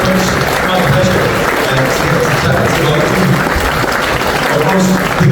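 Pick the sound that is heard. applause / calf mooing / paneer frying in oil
applause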